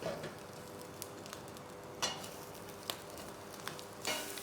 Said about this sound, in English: continue with our onions straight in the pan, as hot as it can be. We want to give it a little bit of char first